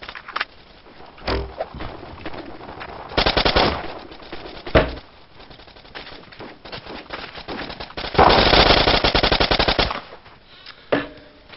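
Rapid bursts of automatic gunfire from a video game shooter, several loud volleys spaced between quieter stretches, with single sharp shots in between.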